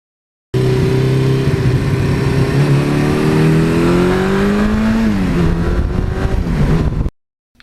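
A 1982 Suzuki GS1100E air-cooled motorcycle rides past close and loud, its engine droning steadily with rising and falling pitch as it accelerates and eases off, then cuts out abruptly.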